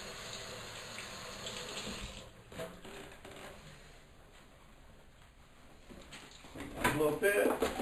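Kitchen tap water runs into a sink while buttery items are rinsed clean, a faint steady splashing rush that swells louder near the end with clattering handling.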